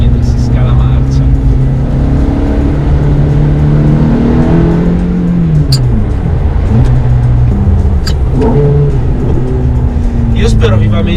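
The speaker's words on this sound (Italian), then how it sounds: "Dare quel colpetto di gas mentre si scala marcia." A Ferrari F430's engine with a 6-speed manual gearbox runs steadily, its pitch rising and falling with throttle blips as the gears are downshifted, while someone talks over it throughout.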